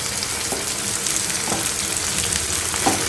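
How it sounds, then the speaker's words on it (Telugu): Chicken with onions frying in a pan sends up a constant, dense, loud sizzle, close to the microphone, with a few soft stirring knocks spaced through it. "ఇది కూడా కొంచెం వేగనివ్వాలండి"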